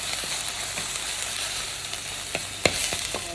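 Steady crackling sizzle of ginger and garlic frying in a hot pan, with a few faint scraping clicks of a spoon stirring, no voices.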